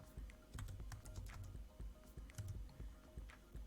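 Rapid typing on a computer keyboard close up, a steady run of light clicking keystrokes at an uneven rhythm with no speech.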